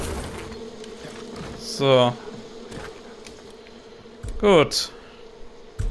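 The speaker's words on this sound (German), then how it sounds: "Immer wegrennen, wenn Bienen kommen." A swarm of bees in the video game Far Cry 5 gives a continuous droning buzz throughout, with two louder swooping whines as they sweep past. Someone speaks briefly over the buzzing.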